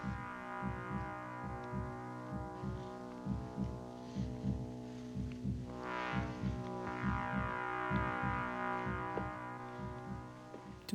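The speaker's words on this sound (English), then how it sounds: "The old heartbeat." A thudding heartbeat effect from a 1980 horror film pulses steadily under a sustained droning tone, regular paired beats that grow slightly louder as the scene's tension rises.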